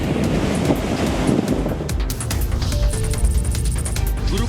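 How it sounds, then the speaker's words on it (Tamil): Rough, agitated sea at the Pulicat coast, a continuous loud roar of surf and wind buffeting the microphone, churning without a break and with no voices. "இதேபோல பழவேற்காடு கடல் பகுதியிலும் கடல் சீற்றத்துடன் காணப்பட்டது."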